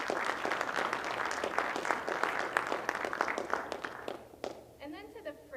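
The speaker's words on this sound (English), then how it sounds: "so let's give them a round of applause" Audience applause at a CCAF graduation ceremony, a brisk burst of many hands clapping that fades out as a voice begins speaking near the end.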